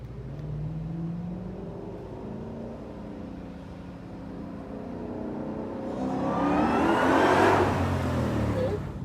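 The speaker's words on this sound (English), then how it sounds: "All right, he's now in track mode. Can hear those downshifts." A 2020 Ford Shelby GT500 in track mode drones along, then its engine rises to a louder rev with a rasping surge toward the end, heard from inside the car.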